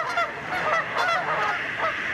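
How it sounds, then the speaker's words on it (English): Canada geese honk several times in a row, close and clear, their calls overlapping a little during a winter Christmas bird count, with no voices over them. "Mallards and Canada geese were just a few of the bird species that were heard during the 2022 Christmas bird count"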